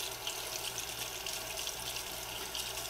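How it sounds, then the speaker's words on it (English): Pet fountain filters are rinsed under a running tap, a steady broad hiss of flowing water splashing in a sink, continuous and fairly close, with no one talking. "just that they're getting thoroughly rinsed"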